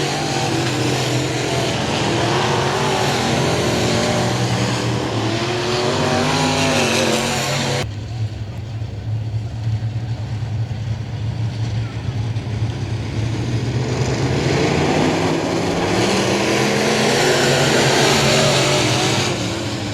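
Race cars roar off at the green flag at the I-37 Speedway, a loud, dense engine drone that shifts sharply midway and then swells again as the pack accelerates down the front straight into the turns, with commentary on the public address underneath.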